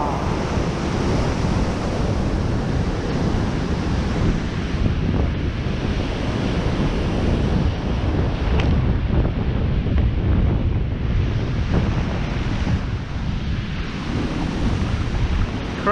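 Rough ocean surf at a beach in Moruya on the New South Wales south coast, heard as a continuous heavy roar with strong wind buffeting the microphone throughout, no voices, steady and loud for the whole stretch.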